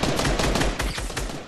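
Rapid bursts of gunfire in Fortnite, loud and dense, a quick string of shots with no talking over them.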